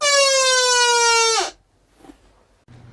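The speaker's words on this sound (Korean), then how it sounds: "동작이 되면 LED가 들어오면서 사이렌이 나옵니다" A fire alarm valve siren set off during a pressure switch test wails loudly with a steady electronic tone for about a second and a half, then cuts off abruptly, leaving faint room noise and small clicks.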